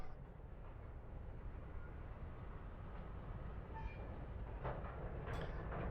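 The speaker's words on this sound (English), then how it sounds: "The signal is now green, so your train is clear to depart." A DMU train departing in the video game Train Simulator 2020: a low, steady rumble of rolling stock, fairly quiet, with a few brief higher tones near the end and no talk.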